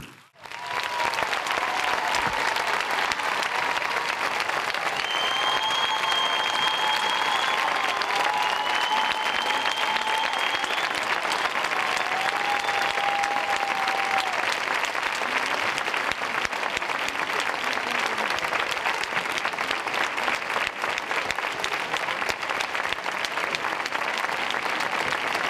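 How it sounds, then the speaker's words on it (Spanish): Sustained crowd applause after the opening speech of the Mijas town fair, a dense, steady wash of many clapping hands that holds loud and even for a long stretch. "Ese aplauso, que siga, que siga."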